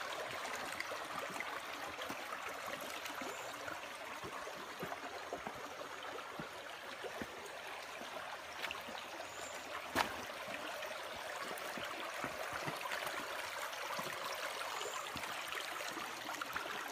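Clear water runs steadily in a small outdoor stream near an abandoned house, a soft continuous trickle and babble at moderate distance with no talk over it.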